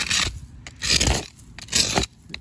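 A dowel rod scrapes leaves and debris out of the gaps between concrete slabs outdoors, in three close, rough scraping strokes with short pauses between them and no talk.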